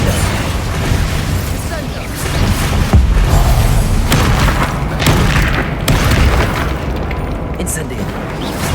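A Confringo blasting spell from the Hogwarts Legacy video game erupts in repeated booming explosions with sharp cracks and pops over a loud, rumbling battle din, near and forceful from start to finish.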